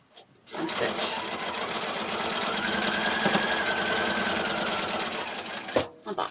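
Sewing machine running steadily while stitching log cabin quilt block strips, a continuous mid-loud mechanical whir lasting about five seconds before stopping, with a brief clunk near the end.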